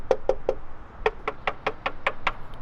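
Knuckles rap the steel bumper of a 2019 Ram 2500 Power Wagon: three quick knocks, a short pause, then a run of about seven evenly spaced knocks, close and clear.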